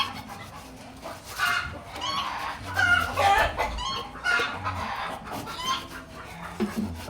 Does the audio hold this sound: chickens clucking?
yes